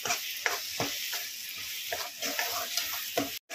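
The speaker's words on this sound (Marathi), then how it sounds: "आता ह्याच्यात आपण वाटाणे घालून घेऊया आणि जरा 2 मिनिटं आपण वाटाणे त्या मसाल्यामध्ये फ्राय करून घेऊया।" Green peas fry in masala in a pan, giving a steady close sizzle punctuated by repeated scraping stirs of a spoon, with no one speaking.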